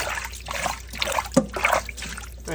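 Water trickling and gently splashing as washed cabbage leaves soak in a pot, a steady close-up dribble with a few small sloshes and no talking.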